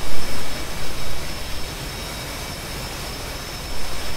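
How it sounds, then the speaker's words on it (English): An F/A-18C jet engine runs at idle in the DCS flight simulator, giving a steady, loud broadband roar with a thin whine on top. A few louder surges come early, then the roar holds even, with no voices. "Now the jet is all start up, and I'm gonna start taxiing and see how it behaves."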